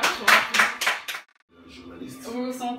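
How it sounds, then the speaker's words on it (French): Brief audience clapping at a conference: a few strong bursts of claps in the first second, then a gap and a voice speaking afterward. "Veuillez honorer par vos applaudissements"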